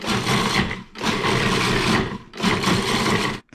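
A food processor whirs loudly in three sustained bursts, its motor grinding spice ingredients with short pauses between runs and no talking.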